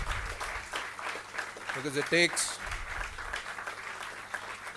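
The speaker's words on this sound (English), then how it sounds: "Please give a biggest round of applause for the winners." Applause for the winners at a moot court competition's closing ceremony, a dense clapping crowd in a hall, steady and moderately loud under continuing speech, with a brief tonal blip in the middle.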